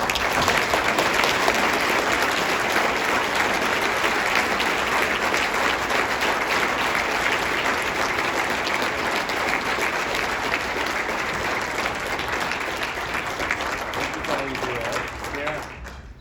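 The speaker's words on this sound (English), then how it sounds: "Let's give you a huge round of applause." A large audience at the Guelph State of the City Address applauds loudly and steadily for about sixteen seconds, a dense wash of clapping that tapers off at the very end as a voice begins.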